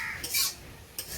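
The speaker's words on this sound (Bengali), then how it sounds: "ভালো করে নেড়ে চেড়ে নিচ্ছি" A spoon scrapes and clinks against a pan while banana flower curry is stirred, two brief metallic strokes close by over a soft background, with no talking.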